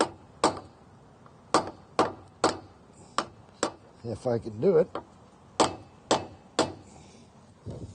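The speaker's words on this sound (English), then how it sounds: "take the hammer," Hammer tapping a bearing buddy onto a boat trailer wheel hub, a dozen or so sharp separate knocks spaced about half a second apart, with a brief voice speaking in the middle.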